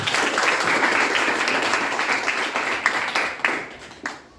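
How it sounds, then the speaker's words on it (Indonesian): Classmates in a school physics lesson clap for a student, a burst of group applause that holds steady, then thins into a few scattered final claps and fades out. "Tepuk tangan dulu buat temannya."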